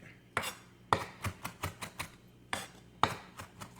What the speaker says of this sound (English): the parsley as you're chopping it.